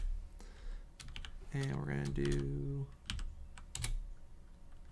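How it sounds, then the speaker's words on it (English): Fast clattering keystrokes hammered on a computer keyboard, close and loud in quick bursts, with someone talking over part of the typing. "I guess it did not like me going hammer on my keyboard"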